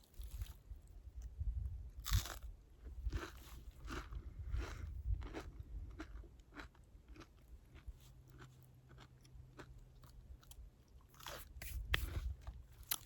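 Gouda cheese on a Triscuit cracker being bitten and chewed up close during a trail lunch while backpacking, with repeated crisp crunches and softer chewing between bites, no talking.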